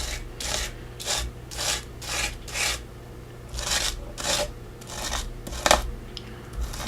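Homemade texture paste made with baking soda is spread over a stencil with a palette knife, giving repeated rhythmic scraping strokes, close and moderately quiet, with no talking.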